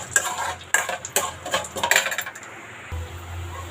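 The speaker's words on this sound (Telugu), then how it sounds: "శనగపప్పు, జీలకర్ర, ఆవాలు ఇవి బాగా వేపుకుందాము." Chana dal, cumin and mustard seeds fried in hot oil for tempering, with a rapid run of sharp crackles and pops and spoon clatter, loud and close, then quieter sizzling with a low hum, no talking.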